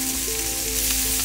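Fingerling potatoes sizzle cut side down on a hot pan, a steady close crackling fry with no talk.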